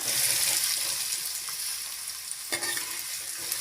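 Chopped onions sizzle loudly in hot oil with whole spices for a chicken gravy, a dense steady frying hiss with a brief scrape of stirring near the end.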